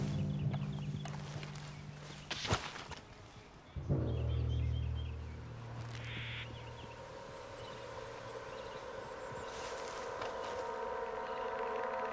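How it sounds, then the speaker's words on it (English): A horse's hooves clip-clop at a steady walking pace in the video game Red Dead Redemption 2, amid a synthetic ambient backdrop with droning, siren-like tones; no one speaks. "What's got this horse spook, huh?"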